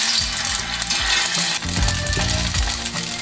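Dough balls of minced meat with chopped scallion pan-fry over low heat in a flat pan, giving a steady close-up sizzle with soft scraping and stirring knocks throughout, and no voices.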